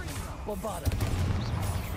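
A Bombarda explosion spell goes off in the Hogwarts Legacy catacombs: a sharp blast followed by a low rumbling tail under game music, with a voice casting just before.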